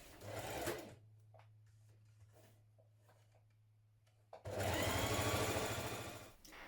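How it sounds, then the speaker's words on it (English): A sewing machine stitches a central seam on the back pieces of a tunic, running in two close, brisk bursts of rapid whirring separated by a quiet pause with a low hum. "pin down this central seam and stitch with a 1 centimetre seam"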